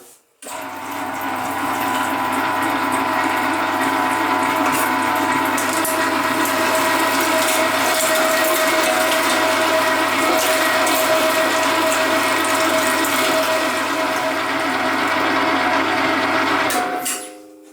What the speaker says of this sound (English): Meat is still slightly frozen, so it doesn't smear in the grinder.